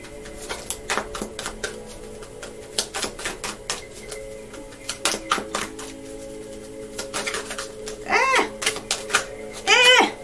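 Tarot cards are shuffled close by in quick bursts of riffling and flicking, with brief bits of voice near the end.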